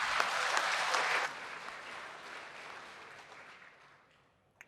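Audience applause at a ministerial handover speech, dense clapping at first that thins and fades away over a few seconds, ending in near quiet with one last clap.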